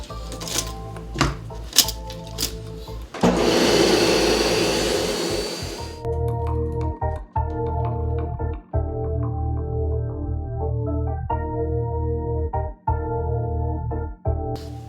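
A loud power tool machines a carbon fiber plate, giving a harsh whirring grind with a sustained noisy stretch in the middle and rhythmic tonal hum before and after.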